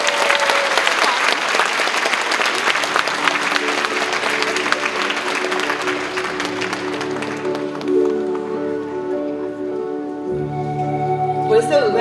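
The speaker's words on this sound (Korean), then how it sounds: "여러분 큰 박수로 우리 시장님을 환영해 주시기 바랍니다." A crowd at a family music and poetry concert gives loud, sustained applause welcoming the mayor of Gumi. The clapping thins out as sustained instrumental music rises in the second half.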